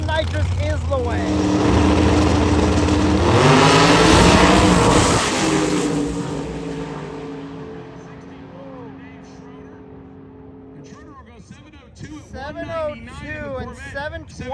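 Nitrous-fed drag racing car making a pass at a drag-and-drive event, engine roaring loud and building as it passes, then fading into the distance while a commentator talks over the track noise.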